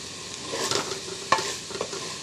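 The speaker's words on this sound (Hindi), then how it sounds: "अब इसको पकाएंगे जब तक के ये पानी खुश्क ना हो जाए" Ojri (tripe) cooking in a pan until its water dries off, a soft frying sizzle with a few light stirring scrapes and clinks, fairly quiet and close, no talking.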